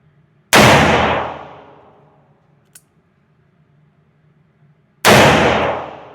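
A Taurus Tracker .357 Magnum revolver fires two loud, sharp shots about four seconds apart, each with a long decaying echo, and there is a faint click between them.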